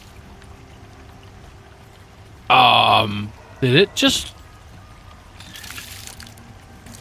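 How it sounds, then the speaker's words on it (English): A farming plot being watered with a water can in the video game Icarus: a short burst of splashing, pouring water, then two quicker splashes, with a voice talking briefly over it. "you can hit right-click to water the farming plot"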